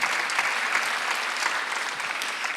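A church congregation at a Sunday worship service applauding, with continuous, even clapping from many people throughout and no talk.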